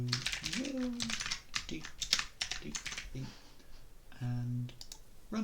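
Quick keystrokes on a computer keyboard as "hello world" is typed into a Python file, soft clustered clicks in short bursts with brief gaps, with a voice speaking over them.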